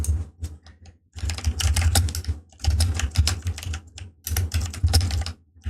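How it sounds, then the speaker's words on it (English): Steady typing on a computer keyboard: rapid bursts of clicking keys in three runs separated by short pauses, close and clear with no talking. "as I was typing"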